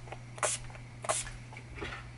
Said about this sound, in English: One more spray for good measure.